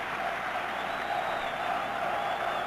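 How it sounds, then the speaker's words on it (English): A cheering section at a 1968 college football game between Purdue and Notre Dame in South Bend roars from below, a steady, dense wall of crowd noise and applause with no clear breaks. "Listen to that cheering section down below us now."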